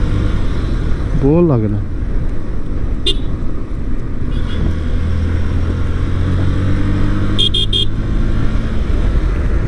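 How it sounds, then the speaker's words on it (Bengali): A motorbike ridden along a rural road in Boalkhali, Chittagong, Bangladesh, with a steady engine drone, a few short horn toots and other passing traffic, while someone talks over it throughout. "এরকম রাস্তায় আসলে বাইক রাইড করতে মজা লাগারই কথা"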